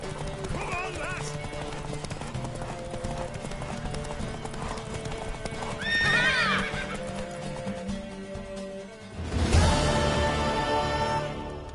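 Video game horse hooves clip-clop in a quick galloping rhythm while a horse neighs loudly several times, with voices talking over parts of it.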